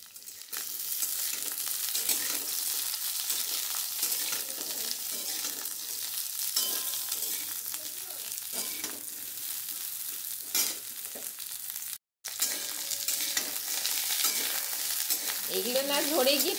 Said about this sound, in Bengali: সজনা ডাঁটাটা এখন আমি ভালো করে ভেজে নেব।